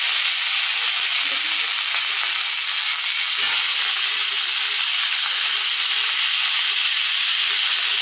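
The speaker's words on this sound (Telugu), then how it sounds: "వంకాయలు, ఉల్లిపాయలు ఫ్రై అయిపోయింది ఫ్రెండ్స్" Brinjal and onions frying in a pan give off a steady, fairly loud hiss that runs unbroken throughout, with a few faint clinks.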